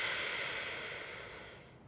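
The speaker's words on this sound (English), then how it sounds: "Inhale quickly and deeply through your mouth until you take a full deep breath in like this" Quick deep inhalation through an Inhub inhaler mouthpiece, a single close airy hiss that starts strong and fades steadily over about two seconds before cutting off, with no talking.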